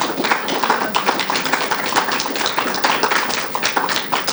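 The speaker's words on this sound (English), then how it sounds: "let's give him a round of applause, wherever he is" Audience members at a forum clap in a loose, steady round of applause, close and fairly loud, with no talk over it.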